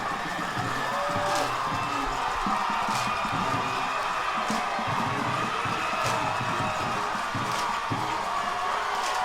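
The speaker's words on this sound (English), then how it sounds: "This Destrehan crowd is on their feet." A high school football crowd cheers from the stands near the end of a Hahnville vs Destrehan game, a steady distant roar with sharp claps and bangs recurring at intervals.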